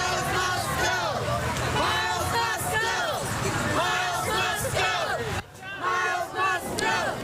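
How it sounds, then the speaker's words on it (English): A crowd of protesters outside a school chants loudly and rhythmically in unison, voices overlapping in a dense, steady roar with a brief lull near the end. "Protesters chanting "Miles must go.""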